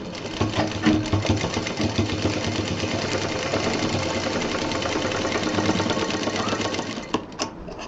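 A sewing machine stitches a 2-inch-wide strap onto a college bag, a loud, fast, steady mechanical chatter running continuously before it slows and stops at the end, with no talking.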